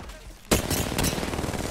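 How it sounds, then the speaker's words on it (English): A Kraber sniper rifle fires in Apex Legends with a sudden, sharp blast after a quiet start, followed by a second crack about half a second later. Dense, loud gameplay noise carries on underneath. "Oh my god, it's a Kraber!"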